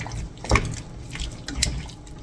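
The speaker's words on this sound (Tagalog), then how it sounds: "Tapos lagyan natin siya ng konting tubig." Small splash of water poured into a bowl of wet chicken batter, a brief sharp pour followed by a softer second splash and light dripping in a quiet kitchen.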